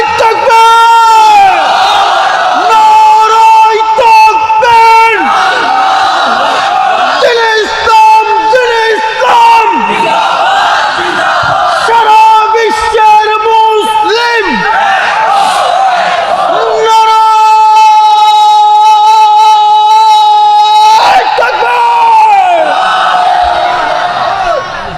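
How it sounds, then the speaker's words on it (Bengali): A large crowd at a Bengali Islamic sermon loudly chants the takbir, Allahu Akbar, in repeated rhythmic bursts of massed voices. The chant is close and echoing, ending in one long sustained unison shout. "তাকবীর দেন তো জোরে, নারায়ে তাকবীর।"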